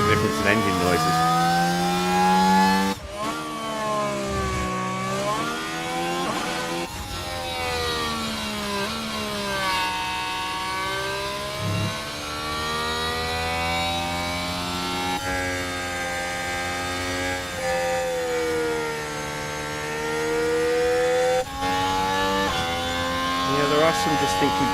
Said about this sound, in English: some distinctly different engine noises